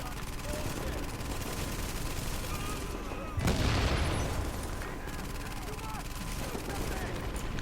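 Dense, continuous gunfire from the shooter game Tom Clancy's The Division, with rapid rifle bursts overlapping throughout and one heavier, booming blast standing out near the middle; constant and loud, with no pause.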